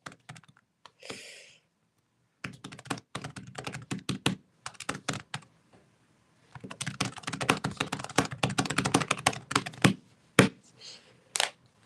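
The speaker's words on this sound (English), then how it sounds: "I was just typing," Bursts of fast typing on a computer keyboard, close and crisp, with short pauses between runs and a longer dense stretch near the end.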